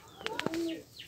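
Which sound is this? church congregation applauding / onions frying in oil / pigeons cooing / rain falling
pigeons cooing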